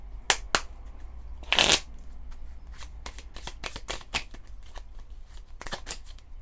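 A deck of oracle cards is shuffled up close. Crisp riffles and sharp slaps come in irregular bursts over a quiet room, with one longer flurry near the start.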